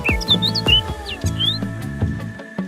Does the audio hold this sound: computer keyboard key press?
no